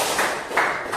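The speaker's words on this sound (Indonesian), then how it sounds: "Oke, tepuk tangan untuk kalian semua." Children clapping together in a classroom, a steady dense patter of many hands that swells in short bursts, moderately close, with no talk.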